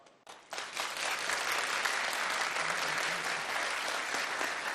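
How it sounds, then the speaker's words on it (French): An audience at a televised debate breaks into warm applause for arriving guests, starting abruptly and building to a dense, steady clapping that fills the room without letup. "je vous demande d'applaudir très chaleureusement nos invités."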